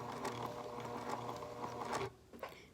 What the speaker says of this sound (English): when you do it on the machine, you may have to adjust the width or the size of your button